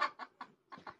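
An old hen clucks five times in quick, uneven bursts, close and fairly soft, with short silences between the calls.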